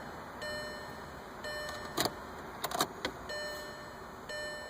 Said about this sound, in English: You're going to want to cycle your key a couple times.